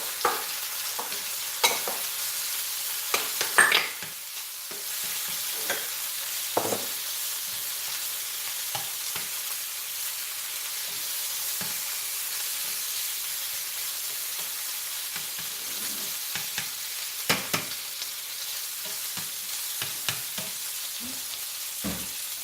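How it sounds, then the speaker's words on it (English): Shrimps frying in a little oil at the edge of a pan beside carrot cake, a steady hiss of sizzling overlaid with occasional light scrapes and taps of a utensil, close and even throughout. "I'm going to fry the shrimps."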